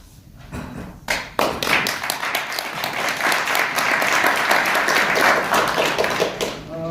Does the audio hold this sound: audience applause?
yes